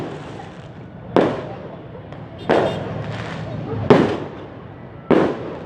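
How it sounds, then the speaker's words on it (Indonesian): Four sharp firework bangs at spaced intervals during Takbiran night in Banda Aceh, each with a brief crackling decay, sounding somewhat distant over a low background murmur. "Nikmati kembang api."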